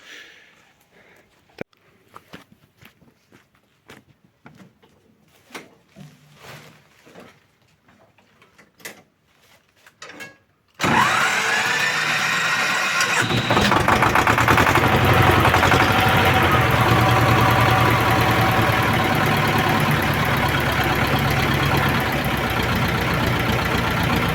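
A T-25 tractor engine is started after an oil and filter change. Scattered clicks and knocks come first, then the engine abruptly fires and settles into a loud, steady, close idle.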